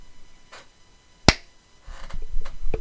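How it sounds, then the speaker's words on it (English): A single sharp hand clap marks a recording for syncing, loud and isolated against a quiet room, followed by faint shuffling and handling noise. "Alright, I'm gonna do another clap then."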